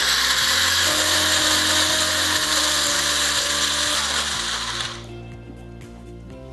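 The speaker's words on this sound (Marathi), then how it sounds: "आता हा मका वाटून झालाय आपला." A kitchen mixer grinder grinds maize with a loud, whirring motor whine that shifts pitch in steps. The motor then winds down and stops, leaving quiet.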